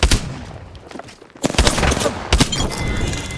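Rapid gunfire in Apex Legends, with loud bursts of automatic shots and sharp cracks that start, pause briefly and then resume in close, dense volleys.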